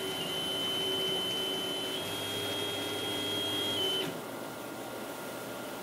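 Steady whine of a CNC router machine's stepper motors jogging the gantry into position over a touch plate, a sustained tonal hum that stops abruptly near the end, leaving a quieter background hum.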